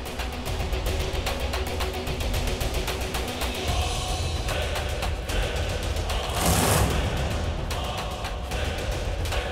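Rapid bursts of gunfire crackle in a TV drama action scene, a dense, loud run of repeated shots with sharp regular cracks, swelling into a heavier blast midway and then continuing in steady volleys.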